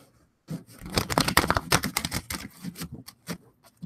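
Tarot cards are shuffled close by in a quick run of crisp riffling snaps and flutters, lasting a few seconds with no talking.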